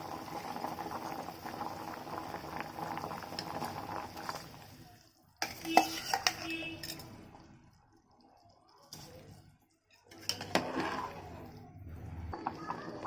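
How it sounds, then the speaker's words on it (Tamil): Washed rice is tipped into a chutney mixture of coriander leaves and curry leaves, giving a soft wet rustle and stirring sound that rises in two bursts between quieter stretches, with no talk. "இப்போது நம்ம அரிசி, களைஞ்ச அரிசியை இதில் சேர்த்துடலாம்."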